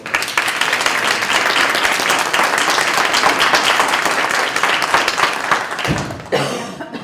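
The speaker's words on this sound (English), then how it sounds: "please, a round of applause for her" Audience at a lower school town hall gives sustained applause, dense and loud clapping throughout that breaks off near the end, followed briefly by a softer tail.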